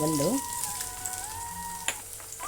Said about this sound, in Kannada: ಈರುಳ್ಳಿ ಹಾಕ್ತಾಯಿದ್ದೀನಿ.